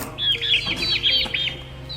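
Two-month-old free-range chickens cluck and squawk in quick, overlapping bursts, close by and fairly loud, with no one speaking.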